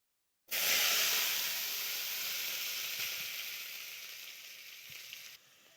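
Vegetables drop into hot oil seasoned with panch phoron and erupt in a loud, steady sizzle and hiss that slowly fades over several seconds, with no voices.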